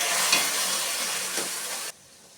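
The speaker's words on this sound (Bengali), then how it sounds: "আমি এরকম ছড়িয়ে ছড়িয়ে দিয়ে টানিয়ে নিচ্ছি জলটা, তাতে তাড়াতাড়ি হয়ে যাবে।" Taro leaves with spices stirred and cooked in a pan, a steady close sizzle with two soft scrapes of stirring, ending abruptly in near silence.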